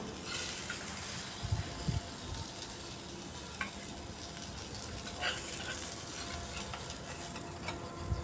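Continuous bubbling sizzle of taro pieces frying in hot oil, with occasional stirring clinks and faint pops throughout.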